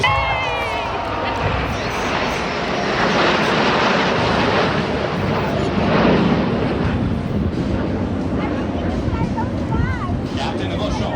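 Snowbirds jets of the Canadian Armed Forces fly over in a nine-plane formation at a Canada Day show. Their loud, sustained roar fills the whole stretch, with a crowd and an announcer's voice heard over it.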